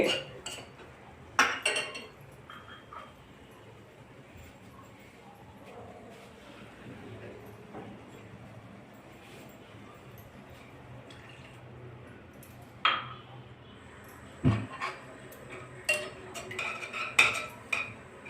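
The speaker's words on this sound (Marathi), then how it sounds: "आता तुम्ही पाहू शकता गवती पानाने आलं अगदी व्यवस्थित उकळत आहे" Ginger and lemongrass boiling in water in a pot for tea: a low, continuous bubbling interrupted by scattered metallic clinks of utensils against the pot.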